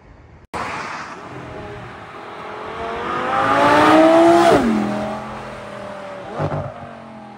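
A Porsche sports car at a Bugatti festival car show revs hard nearby, engine pitch climbing to a loud peak then falling away, with a short second blip near the end.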